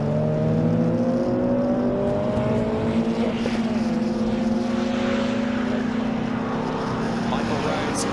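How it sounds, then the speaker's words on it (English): A Peugeot 106 race car at Mallory Park passes on track with a high, revvy engine whine that holds steady tones and shifts, moderately near, with a commentator talking over it. "really revvy, that little Peugeot 106"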